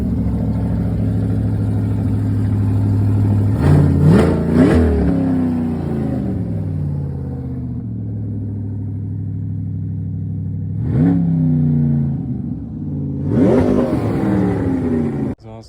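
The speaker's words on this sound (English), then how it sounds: "This is what the C8 Corvette sounds like with no exhaust and OEM pedals" A C8 Corvette with no exhaust fitted and stock pedals, its engine idling loudly up close, then blipped in three sharp revs, a single rev later, and another rising burst near the end, each swelling into a raw, harsh roar.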